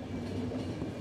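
A train rumbles along steadily in the video game The Final Station, with a dense, loud, continuous rolling drone and faint clickety-clack of wheels and no voices.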